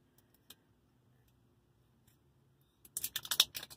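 The perforated plastic seal on an El Yucateco hot sauce bottle is torn off by hand, producing faint clicks and then a short burst of crisp crackling rips at close range.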